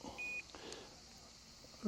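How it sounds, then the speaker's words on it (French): A single short electronic beep from a dog training beeper collar sounds early, followed by faint rustling and quiet background noise outdoors. "lors des premiers arrêts, il entend biper à côté de lui mais ça ne bipe pas autour du cou"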